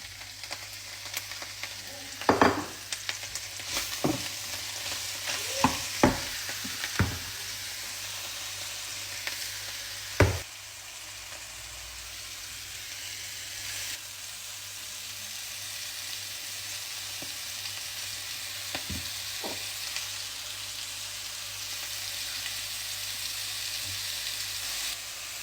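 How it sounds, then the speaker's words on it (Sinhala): Mushrooms are tempered in a frying pan, giving a steady sizzle throughout, with a few sharp clatters of stirring early on and a louder knock near the middle. "බිම්මල් ටික මම ටෙම්පරාදු කරගන්නවා"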